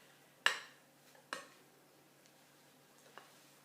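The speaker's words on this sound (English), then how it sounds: "So I'll take out 1 spoon so that you can see it." A spoon scooping lemon pudding from a dish: two sharp clinks of metal against the dish, each with a short ringing decay, followed by a few faint taps in a quiet room.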